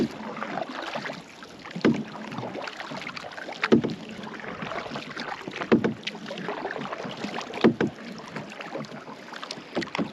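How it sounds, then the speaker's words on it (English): Rowing strokes splash at a regular interval, about every two seconds, over wind and water noise from a small boat moving along. "First time we've been by boat on this trip."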